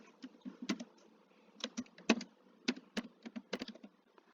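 Rapid, uneven keystrokes on a computer keyboard while writing web page code, clicking in short bursts and pauses, close and fairly soft.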